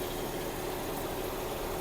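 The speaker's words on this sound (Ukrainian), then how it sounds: "Кондиціонер працює, включився компресор." A steady mechanical hum of the air conditioning compressor running in a 2009 Skoda Octavia A5 1.6 MPI, constant and even with no breaks.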